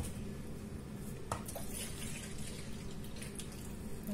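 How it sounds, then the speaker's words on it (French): Milk pours steadily into a bowl of madeleine batter made without eggs, a continuous soft liquid stream sounding close and alone for about four seconds. "Après, tu me mets le lait."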